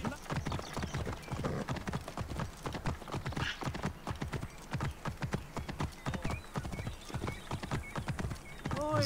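Horse hooves clip-clop steadily and close by in Assassin's Creed Origins, with a fast even rhythm that keeps going the whole time and a brief whinny near the end.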